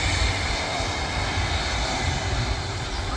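An Air Tanker Airbus A330 jet takes off at Manchester Airport, a loud steady roar of engines at full power heard close and continuous with no talking.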